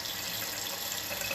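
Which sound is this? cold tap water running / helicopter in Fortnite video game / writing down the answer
cold tap water running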